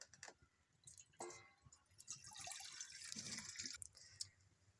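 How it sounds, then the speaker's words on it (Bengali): Milk is poured into a pan on the stove while making winter pitha, a soft liquid splashing and trickling that builds midway and carries on steadily at moderate loudness. "দুধটা দিয়ে দেবো।"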